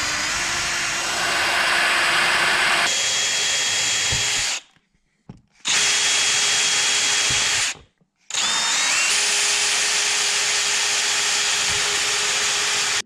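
A power drill bores holes in the fender of a Yamaha YZ 250 two-stroke supermoto in three loud, sustained whining bursts, separated by brief silent pauses, close by.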